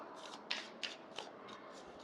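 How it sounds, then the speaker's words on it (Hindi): Tarot cards drawn one at a time from a deck for a weekly reading, giving soft, close papery slides and flicks in a quick series of about five, faint and alone. "मंडे टू संडे तक के लिए हम एक एक कार्ड निकालेंगे"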